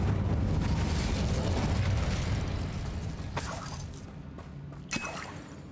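Incendio fire spell cast in Hogwarts Legacy: a dense, roaring rush with crackling bursts that fades after a few seconds, followed by a couple of sharp, isolated pops.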